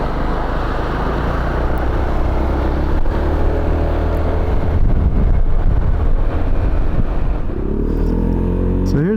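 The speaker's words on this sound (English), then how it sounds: "we're gonna take the 2021 BV350 Touring out on a ride" A 2021 Piaggio BV350 Beverly Tourer 350cc scooter riding on the road, its engine droning steadily with wind rush. The sound stays loud and continuous, with a voice speaking over it.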